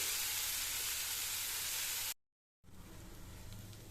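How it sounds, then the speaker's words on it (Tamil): Bitter gourd frying in a pan, a bright broad sizzle that cuts off abruptly into silence, then resumes at a lower, duller level, close with no voices. "அதையே வறுப்பட்டுக்கிட்டு இருக்கட்டும்"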